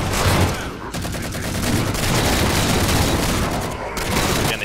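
Sustained automatic gunfire and rapid weapon bursts from a Halo 4 video game battle between elites and marines, loud and dense throughout with brief gaps near the start and end.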